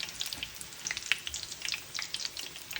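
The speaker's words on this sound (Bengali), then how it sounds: "একদম গোল্ডেন ব্রাউন করে ভেজে নিচ্ছি দেখেন কালার" Soft, bubbly sizzling of shami kebabs frying golden brown in oil, with small crackles and pops throughout at a fairly low level.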